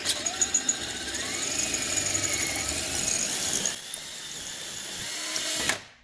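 A power drill with a 25/64 bit whines steadily through metal on a Nissan Rogue front wheel hub job, with a rising squeal as the bit cuts, then drops off abruptly as it breaks through and stops.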